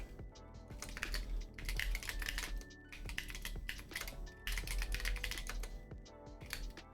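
Steady, busy typing on a computer keyboard while writing code comments, with quick clustered keystrokes running continuously and close up.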